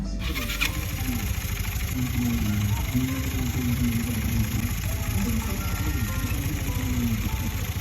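Scooter engine idling with a steady low rumble and a faint, fast rattling knock from a dirty CVT belt running through it, close by and continuous.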